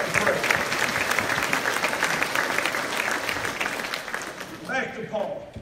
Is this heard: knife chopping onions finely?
no